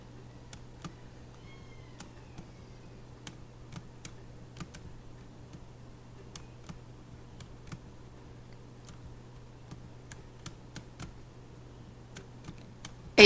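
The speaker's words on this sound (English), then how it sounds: "I think I'm going to start typing this" Sparse, irregular keyboard clicks tapping at a slow pace over a quiet room hum, individual keystrokes spaced out with pauses between them.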